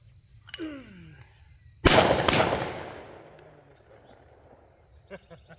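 A single loud shotgun blast from a Walmart-bought shotgun, a sharp close crack with a long rolling outdoor echo that fades over a few seconds, with a voice before and after.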